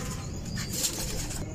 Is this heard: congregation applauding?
no